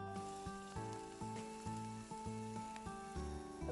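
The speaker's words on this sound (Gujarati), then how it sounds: "ઝીણી સમારેલી ડુંગળી લઈશું, પા કપ જેટલી, એને સાંતળી લઈશું." Finely chopped onion sautéing in a spoonful or two of oil for panipuri filling, a steady soft sizzle running on alone with faint rhythmic stirring, no voices.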